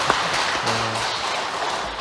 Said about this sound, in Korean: 우리 잘 사시라고 박수 한번 보내드릴까요?